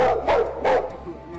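A dog barks twice in quick succession, close and loud, outdoors on a hiking excursion through a ravine, with a faint whimper trailing after.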